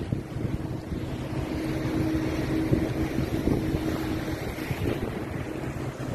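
Wind and rain lash an offshore boat at sea in the Yoki sector, making a steady, loud, broadband roar of gusts and spray with a low engine-like rumble beneath, continuous throughout and without voices.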